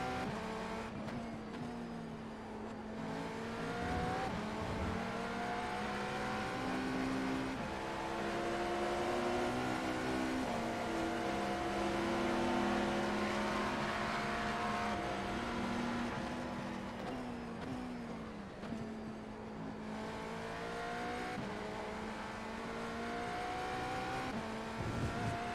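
Race car engines in the iRacing IMSA sim racing series roar steadily up close, their droning pitch rising and falling as they accelerate and ease off, with another car running close alongside.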